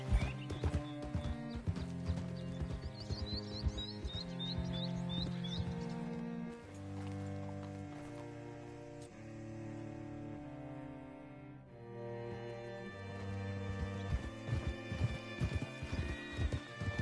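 A horse gallops in Red Dead Redemption 2 with rhythmic hoofbeats and a brief whinny, layered under a prominent game music score.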